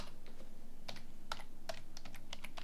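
Computer keyboard typing as a project name is entered, with scattered key clicks in uneven bursts over a steady low hum, close and fairly quiet, with no voices.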